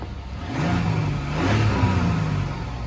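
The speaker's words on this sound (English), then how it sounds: "Let's hear how the engine sounds like." A 2024 Mazda CX-90, Mazda's largest vehicle, revs its engine in a steady mid-pitched drone that swells slightly midway, close and fairly loud with no talking.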